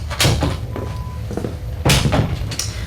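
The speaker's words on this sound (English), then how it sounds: "I'm closing the door to provide privacy" A door is shut in a hospital patient room, giving a couple of knocking thumps and a firmer bump of wood and latch up close, with quiet movement in between.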